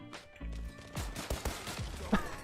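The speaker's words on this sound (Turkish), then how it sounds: "Glock 17 ile adam vurduk abi." A Glock 17 pistol fires in a video game, several quick gunshots in an irregular burst over about two seconds, close and punchy.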